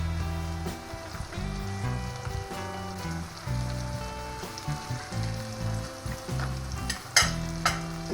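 Meatballs frying with onions in a pan give a steady, close sizzle throughout, with scraping and stirring clatter on top and a sharper burst of spattering near the end.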